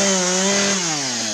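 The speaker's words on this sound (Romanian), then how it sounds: "Bă, Sande, oprește drujba, bă!" A chainsaw runs continuously at steady, loud revving, close by during an angry street incident in Sibiu, with no voices over it.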